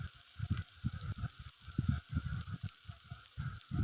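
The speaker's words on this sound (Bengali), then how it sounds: "বাকি তেলে আমি বেটে রাখা মশলাগুলো দিয়ে দেব" Ground spice paste hitting hot oil in a Bengali soy chunk curry, giving a close, steady crackling sizzle with dense bursts of spitting that rise and fall throughout.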